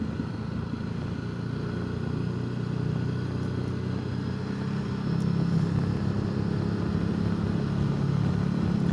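A Honda CRF300 Rally motorcycle hums steadily while cruising, a low engine drone with wind noise that swells slightly partway through, heard from the rider's position.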